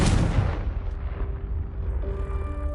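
The Confringo blasting spell explodes in the video game Hogwarts Legacy: a loud close boom at the start that rumbles and decays, then faint tonal ringing rises as it fades.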